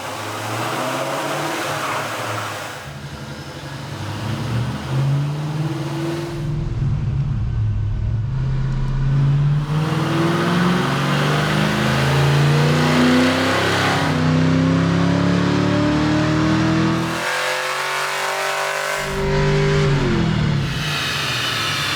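A Fox Body Mustang coupe revs hard on a chassis dyno, engine note climbing through rising sweeps in several loud pulls with brief drops between, close and dominant with no talk.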